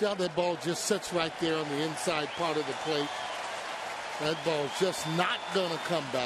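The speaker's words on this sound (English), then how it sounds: "you can hear the crowd cheering in the background" Baseball stadium crowd at a Braves at Phillies game in Philadelphia, cheering after a home run as a steady roar under close, continuous commentary from someone talking over it.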